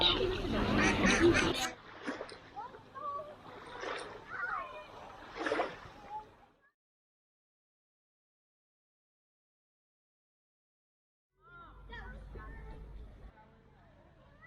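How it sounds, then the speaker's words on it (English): Ducks quack and splash nearby on a lake beach at Mount Blue State Park, Maine, then the sound fades to near silence before faint outdoor noise and low rumble return. "Some ducks on the beach."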